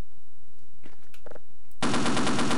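Automatic turret in the video game Half-Life opening up with a sudden, loud burst of rapid gunfire that starts near the end, after a few faint, scattered sounds.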